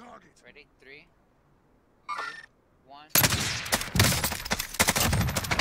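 Gunfire in Warzone, a duos match, erupts partway through after quieter moments of voice chat: loud, rapid bursts of automatic fire with sharp repeated cracks. Talk is heard before the shooting starts.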